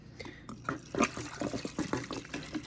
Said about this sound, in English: So we are going to now top with water.